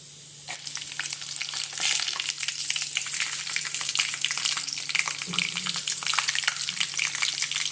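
Garlic fries in a pan after cumin seeds for a horse gram dish, a close, busy sizzle with crackling pops and a few stirring scrapes, steady and fairly loud throughout.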